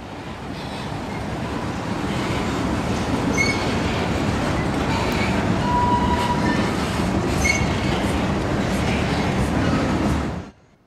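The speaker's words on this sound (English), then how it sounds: "We can wait a moment for the train to pass." A train rumbles past close by, loud and continuous, with faint wheel squeals riding on top before it abruptly cuts off.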